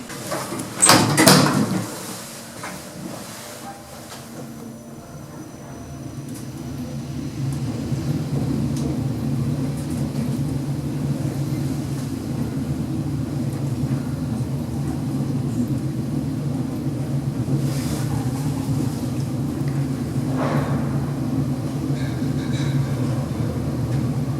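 Hospital lift doors bang shut with a sharp thud, then the car rides on with a low, steady motor hum and faint rumble.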